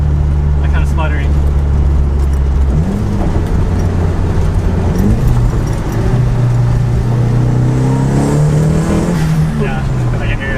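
A Nissan SR20 engine in an S13 is held at full throttle, a loud sustained roar that rises in pitch and stutters as it breaks up, heard from inside the car with people talking over it.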